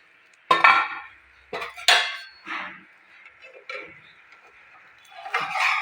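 Metal pan lid clanking and scraping as it is lifted off a pan on a medium gas flame, several sharp close clinks followed by softer rattles.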